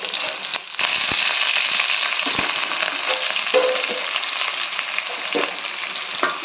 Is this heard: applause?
no